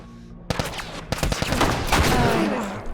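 Video game gunfire in The Last of Us Remastered: a quick volley of several sharp, loud shots fired in bursts, followed by echoing rumble and rattling debris, up close with no clear voices.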